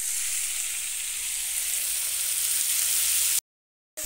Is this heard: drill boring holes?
no